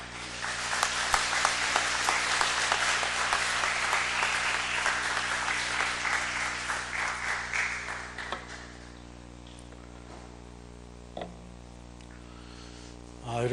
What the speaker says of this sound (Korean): 우리 양동수 장로님 나오실 때에 크게 박수로 환영하겠습니다